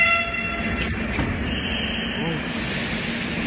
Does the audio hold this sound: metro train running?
yes